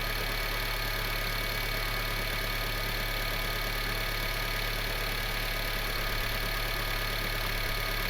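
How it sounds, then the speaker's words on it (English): A 2006-2015 Honda Civic with the R18 engine idles steadily during thermostat replacement and coolant refilling, a constant close mechanical hum with faint knocking texture and no talk. "The car has been idling for about 10-15"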